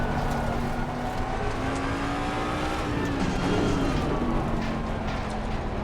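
A GT3 Mustang race car engine drones steadily and loudly in a racing video game, holding a sustained note with slight pitch shifts throughout.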